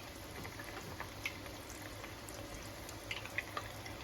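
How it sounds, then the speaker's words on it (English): Flautas fry in a pan of hot bubbling oil, giving a steady, faint sizzle with scattered soft pops and crackles throughout. "these flautas in here, bubbling in the oil"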